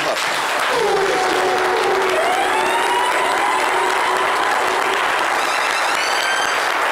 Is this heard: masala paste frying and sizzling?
no